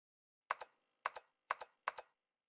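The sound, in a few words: computer keyboard typing in 999 video game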